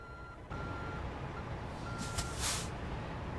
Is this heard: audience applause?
no